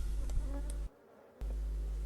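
Black honeybees (Apis mellifera mellifera) droning steadily at close range during a summer honey harvest in Brittany, the buzzing cut briefly by about half a second of near silence before resuming.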